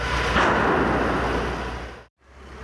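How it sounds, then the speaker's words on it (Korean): Deep, continuous roaring rumble from a car fire inside a road tunnel, loud and dense with explosive booms, then a brief dropout before the roar resumes. "폭발음도 잇따릅니다"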